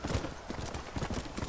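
Horse hooves clip-clopping at a steady trot in the video game Red Dead Redemption, a rhythmic run of close, even hoofbeats with faint game ambience beneath.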